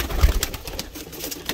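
Pigeons coo inside a loft, soft rolling low calls from nearby birds over a faint background of rustling and shuffling, with no one speaking.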